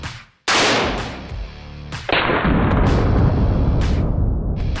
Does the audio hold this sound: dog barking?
no